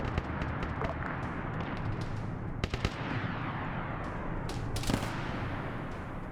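Gunfire and explosions crackle and thump continuously in a Warhammer 40K video game battle, with a dense rolling barrage and a few sharper reports standing out.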